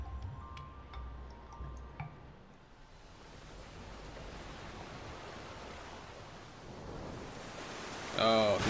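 Water fills a device in Genshin Impact: a few drips and ticks at first, then a continuous rushing wash of water that holds steady, with a brief chiming tone at the very end.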